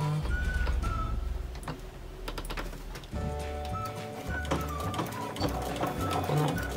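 A sewing machine stitches along a zipper on a drawstring bag, its needle running in a fast, steady mechanical chatter that briefly pauses near the middle before resuming, close and loud with no talk.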